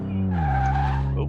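Tires squeal loudly under hard braking in Car Mechanic Simulator 2018, a single sustained screech over the engine hum that bends and fades after about a second.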